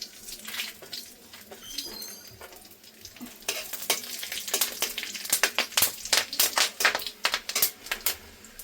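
Dried red chilli, bay leaf, cloves, cardamom and cinnamon hit hot oil in a pan for pulao, a soft hiss that builds into loud, rapid crackling pops, close and alone.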